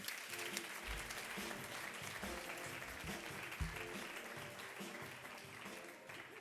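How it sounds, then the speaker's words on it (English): Applause from the audience at a European Mobility Week award ceremony greets the European Commission's Director General for Mobility and Transport, a steady, fairly quiet wash of clapping that holds for several seconds with a few louder low thumps. "Please give a big applause to Director General for Mobility and Transport of the European Commission, Magda Kopczynska."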